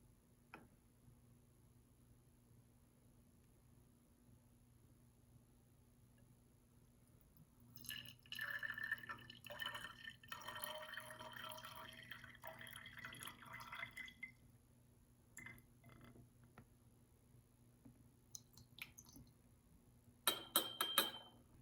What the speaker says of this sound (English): carefully measuring out about 8 milliliters of distilled water